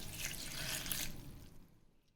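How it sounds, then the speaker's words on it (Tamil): Half a tumbler of water poured into a mint, ginger and lemon juice mix in a blender jar, a soft close splashing trickle lasting about a second before fading into quiet. "ஒரு 1/2 டம்ளர் தண்ணி விட்டுக்கலாம்."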